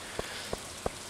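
Rain falls steadily in the video game Stardew Valley as a constant soft hiss, with three light, evenly spaced drip-like plinks standing out above it and no talk.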